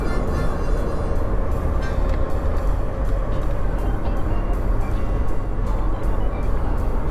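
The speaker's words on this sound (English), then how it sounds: "Slow down, let this big truck get out of here. You're making all that noise." Big truck driving past an RV on the road, a loud, steady roaring rumble heard from inside the vehicle, with faint rattling clicks throughout.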